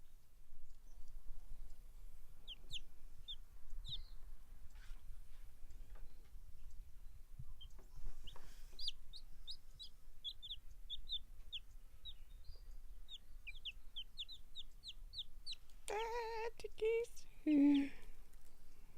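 Backyard chickens cluck softly in short, scattered bursts, with quiet high chirps spread through, then a louder nearby cackling call near the end, against a quiet outdoor background.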